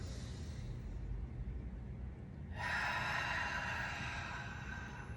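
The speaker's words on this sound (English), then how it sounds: "Breathing in through our nose." A slow, soft breath in through the nose, then a fuller, airy exhale during a gentle chair yoga class, quiet and close with no talk.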